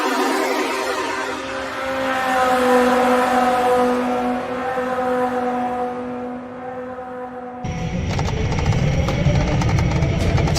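An engine revs at full throttle, a loud sustained drone with climbing harmonics that turns into a rougher, harsher roar toward the end.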